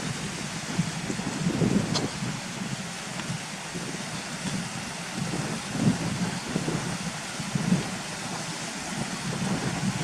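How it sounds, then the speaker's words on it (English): Stream water rushing through concrete pipes beneath an access bridge in the Lambden Valley, a constant broadband roar with gusty microphone wind noise on top. "this is where the Bizzleburton comes through the concrete pipes underneath this access bridge"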